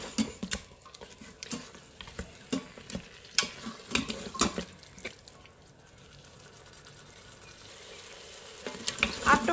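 Meat curry with yogurt sizzling in an Instant Pot, irregular scraping and clacking stirring strokes over a soft fry that settles into a quieter, steady sizzle toward the end, no voices.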